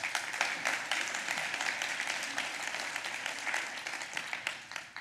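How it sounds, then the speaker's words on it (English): A meeting audience gives steady applause with dense, continuous clapping at a moderate distance. It holds for several seconds and trails off near the end. "I enjoy the claps"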